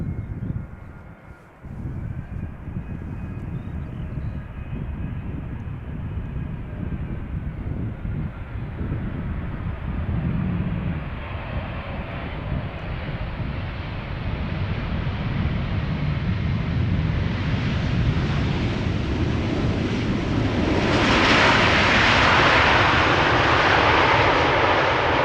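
A 19-year-old KLM Boeing 777-200ER arriving at Schiphol after a long flight from Johannesburg: a loud, sustained jet engine roar building gradually and peaking near the end with a bright hiss, with no talk over it.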